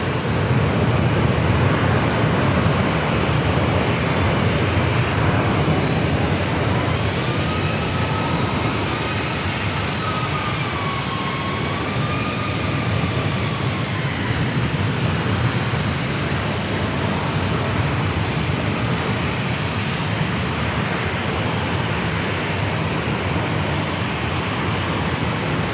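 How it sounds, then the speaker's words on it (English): A JetBlue Airbus A321 jet airliner at San Diego airport, bound for Boston, gives a steady, loud jet engine roar that swells and fades slightly over nearly half a minute, with a broad rumbling wash and no talk. "this JetBlue flight heading to Boston, A321"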